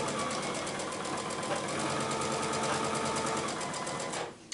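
A sewing machine runs steadily stitching a quilt block, a fast, even needle rhythm close and loud, stopping abruptly near the end.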